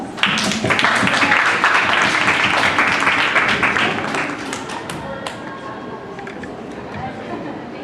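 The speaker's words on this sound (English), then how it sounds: "Once again, let's give her a round of applause." Audience at a university nursing informatics seminar applauds with dense, sustained clapping that fades after about four seconds, leaving scattered claps and murmuring chatter.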